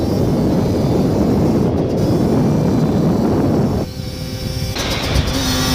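A 50cc MBK X-Limit motorbike engine roars loudly and steadily up close, then drops off sharply near the end as the throttle eases and a faint whine lingers.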